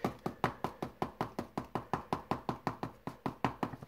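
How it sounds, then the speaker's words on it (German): Rapid series of about twenty sharp knocks on a container of Drosophila fruit flies, evenly spaced and crisp, close and alone with no talk. "Klopfen."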